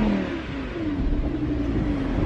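A Lamborghini Huracan engine revs steadily, a rising throaty roar with a high whine on top, loud and close, no talking.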